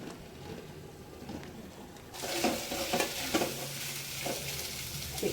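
Spicy chicken fry stirred in a pan: a quieter sizzle that suddenly grows louder and brighter partway through, with repeated scraping stirs of a spatula close by.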